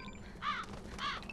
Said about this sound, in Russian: Тут вороны.